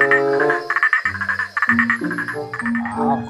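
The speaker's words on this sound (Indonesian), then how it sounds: "Wow, katak sawah," Green paddy frog croaks in repeated tonal, buzzy bursts of varying pitch, close and loud with short gaps between calls.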